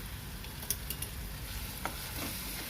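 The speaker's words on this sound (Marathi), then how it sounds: "या वाटणाला छान तेल सुटे तोवर आपल्याला भाजून घ्यायचं आहे" A ground paste of onion, coconut and coriander fries in oil, giving a soft continuous sizzle with a few sharp stirring taps from a spoon against the pan.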